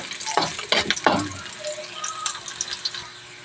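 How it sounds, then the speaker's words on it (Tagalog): Garlic sautéing in a pan for a tofu and ground meat dish, with stirring clatter and a sizzle that crackles loudly early on, then settles into a steady soft frying hiss. "Sulayin lang natin yung bawang."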